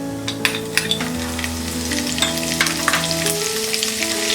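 Bread upma fries loudly and close in a pan, with a bright crackling sizzle as green chilies hit the oil, broken by a few quick spoon taps and stirring noises.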